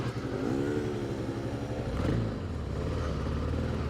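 A Kawasaki KLX 300 dual sport motorcycle engine drones steadily, close and loud, while riding off road at Brown Mountain OHV, with a brief rise in revs midway.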